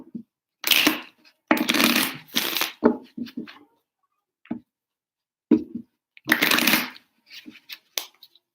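A deck of tarot cards is shuffled by hand in several quick riffling bursts, close and crisp, with short pauses and soft taps between them and no talk.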